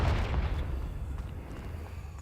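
A Confringo spell in Hogwarts Legacy goes off inside a cave with a deep, muffled blast that booms at once and then fades into a low rumbling tail.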